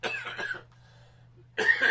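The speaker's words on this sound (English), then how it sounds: "I do apologise for coughing" A short burst of coughing from one person, then a brief quiet gap and a second loud cough, close to the microphone.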